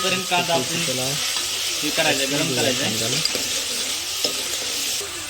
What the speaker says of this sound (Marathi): बेसन टाकन घर मस्त पैकी पळीने त्याला हलवून घेऊया